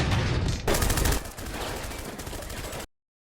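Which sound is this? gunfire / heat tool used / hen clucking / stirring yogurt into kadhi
gunfire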